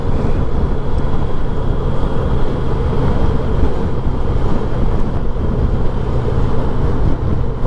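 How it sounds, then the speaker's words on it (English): Heavy wind noise buffets the microphone in a constant low roar while driving along a smooth road through scrubland near Horrocks Beach, loud and unbroken with no voices. "this wind is really pushing me around"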